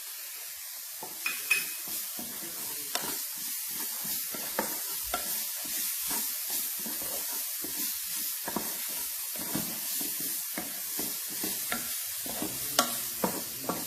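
Carrots and other vegetables sizzle in hot oil for an eggplant ratatouille while a utensil stirs and scrapes the pan, a steady hiss broken by irregular close clacks.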